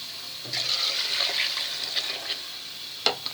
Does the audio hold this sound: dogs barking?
no